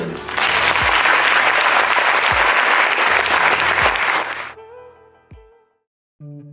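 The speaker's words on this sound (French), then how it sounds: "Je vous les applaudis." An audience at a film screening and debate event breaks into loud, dense applause lasting about four seconds, then cuts off as a quiet sung song with music takes over.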